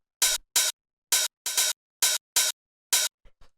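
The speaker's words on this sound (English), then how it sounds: "So the first one is the open hi-hat." A dry open hi-hat from a warehouse techno kit sounds alone, eight crisp bright hisses in an uneven programmed pattern, followed by a couple of faint quieter hits.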